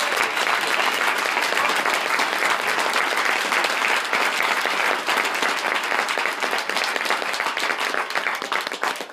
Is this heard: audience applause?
yes